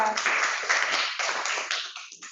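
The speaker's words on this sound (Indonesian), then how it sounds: "Bella, tepuk tangan buat Bella" A classroom of students claps for a schoolgirl named Bella, a short burst of group applause in uneven waves that thins out and fades within a couple of seconds.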